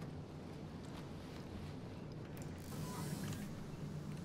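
Wind blowing outside a parked spaceship on a planet in the video game Star Citizen, a steady rushing gust with a soft swell toward the end, no voices over it.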